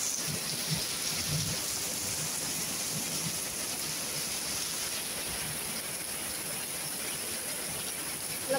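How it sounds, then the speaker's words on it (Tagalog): Heavy rain pours steadily on surfaces with low rumbles of thunder underneath, a dense continuous hiss from start to finish. "May kulog kidlat pa yan."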